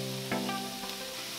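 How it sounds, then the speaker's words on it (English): Chopped scallions fry in about three tablespoons of olive oil in a skillet, giving a steady close sizzle with a few brief stirring scrapes and no talk. "Now on our skillet here, we're gonna use about 3 tablespoons of olive oil. We're gonna cook our 3 bunches of chopped scallions."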